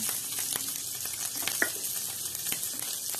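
Garlic frying in melted butter in a pan while cooking a sautéed vegetable dish, a steady bright sizzle with small pops and crackles throughout.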